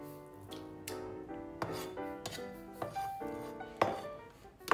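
A cleaver chops through chicken on a cutting board for a chicken pizza recipe, giving a series of sharp, irregular knocks over background music.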